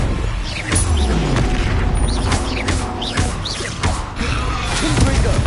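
Spell effects from the Hogwarts Legacy video game on PS5 burst out in repeated booming whooshes and impacts, including the Expelliarmus disarming spell, layered with rising tonal swooshes, loud and close with no clear talk.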